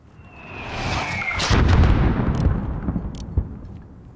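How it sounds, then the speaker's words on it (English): A mortar round whistles in and lands with a deep, rumbling explosion in Call of Duty Modern Warfare on the Highway of Death, followed by scattered debris and a sharp later report, fairly close and loud. "There's still a mortar out there."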